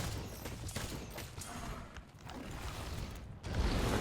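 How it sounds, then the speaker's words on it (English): A heavy bowgun firing cluster bombs in Monster Hunter World Iceborne sends out a string of rapid, muffled explosive pops and mechanical clatter, loud and close, ending in a heavier burst. "Let's go ahead and get this cluster bombs going."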